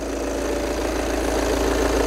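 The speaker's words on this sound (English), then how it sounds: "start the engine again and we can pop the bonnet and have a little look under there" An Audi Q3 engine idling at close range, a steady mid-pitched hum that holds loud and even throughout.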